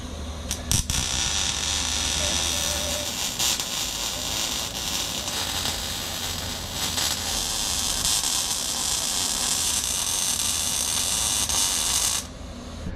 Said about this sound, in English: Let's pull this exhaust off and weld it all up.